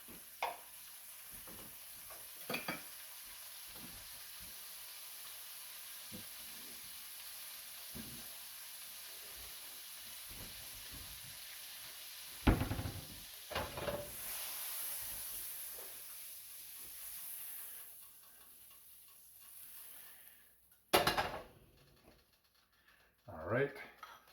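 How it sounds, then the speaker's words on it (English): Butter melts in a frying pan with a steady soft sizzle and hiss running under occasional clatters and scrapes of utensils, while a person talks at times nearby. "I'll melt some more butter and we'll get right back to it"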